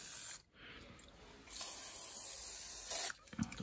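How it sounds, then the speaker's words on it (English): Two short hissing bursts of penetrating or protective aerosol spray onto a seized washing machine drum part, close and fairly quiet, separated by brief pauses, with a faint clatter at the end. "Might spray a bit of something on that to protect it."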